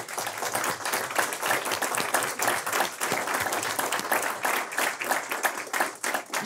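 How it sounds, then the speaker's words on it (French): Sustained applause from a conference audience at a Quebec economics event, many hands clapping densely and evenly throughout with no voices on top. "On vous applaudit."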